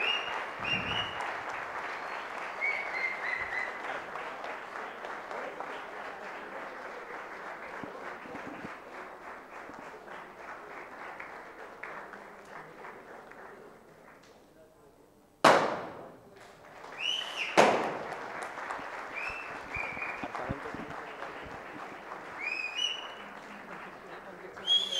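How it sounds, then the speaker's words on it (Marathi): Audience applause at the Super-X 6.0 prize ceremony by Core2web, dense clapping that slowly fades, then breaks into a few sharp loud bursts and resumes, with a voice heard at times. "जोरदार टाळ्या दिल्या पाहिजेत"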